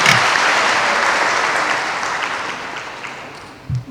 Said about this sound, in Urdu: میری بہنیں ایک زوردار تالیاں لگائیں اپنے لیے